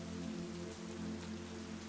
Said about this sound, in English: But for now, the rain is nice and soft